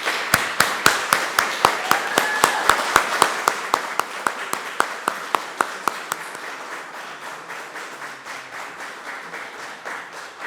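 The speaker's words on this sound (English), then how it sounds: "Would you please give them a round of applause?" An audience applauds at an Order of Prince Edward Island investiture ceremony, with steady, fairly loud clapping that starts as a rhythmic unison beat and then fades into a looser, quieter patter.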